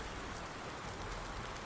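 Rain falls in Farming Simulator 19 as a soft, steady patter of many small drops. It is quiet and even throughout, with no voices.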